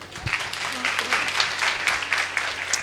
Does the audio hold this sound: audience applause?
yes